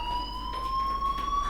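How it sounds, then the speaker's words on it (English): Fire alarm in the video game Life is Strange, a steady electronic tone with rising overtones blaring continuously and loud throughout, with no talking over it. "Hey, do you hear that fire alarm?"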